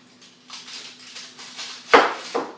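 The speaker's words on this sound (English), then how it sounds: "And I'm just going to do like one little, couple slices maybe of onion" A knife slices an onion on a cutting board, giving a few soft cuts and then one sharp knock of the blade against the board, with a lighter tap just after, close by and quiet.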